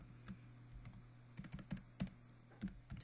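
Keystrokes on a computer keyboard as a file is renamed, about a dozen quick taps in irregular bursts, close and fairly quiet, with no talking.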